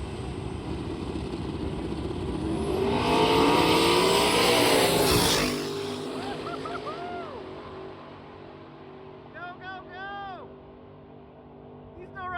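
A foot-braked drag racing car runs down the strip, its engine noise building to a loud roar that peaks mid-clip and then fades off into the distance; background chatter and faint voices continue after the pass.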